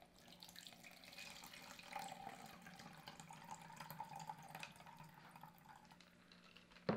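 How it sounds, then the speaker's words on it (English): Ice water, about 200 milliliters, poured steadily into a container, a continuous close splashing trickle lasting several seconds with no talking. "I'm going to pour in 200 milliliters of ice water."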